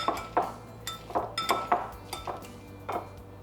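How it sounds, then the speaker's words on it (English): Cooked sweet potatoes being mashed in a bowl for vegan chickpea burgers, heard as a series of irregular clinking, scraping utensil strikes against the bowl, close and moderately loud with no talking. "let's mash these up a little bit first"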